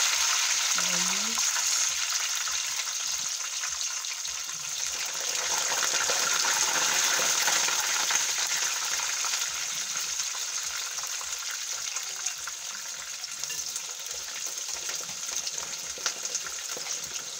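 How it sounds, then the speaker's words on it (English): Onions and potatoes seasoned with salt and food colour deep frying in hot oil for chicken biryani, a steady dense sizzle and bubbling that runs continuously throughout at close range. "I'm going to deep fry them in the same oil"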